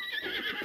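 A horse in Breath of the Wild neighs, a close, loud whinny that fills the short moment on its own.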